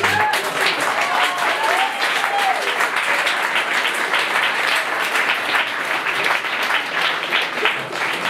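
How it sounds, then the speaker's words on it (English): Audience at a university college JCR hustings applauds the candidates, a steady, dense round of clapping sustained throughout, with a few voices faintly underneath. "Can we have a round of applause for our candidates, finally?"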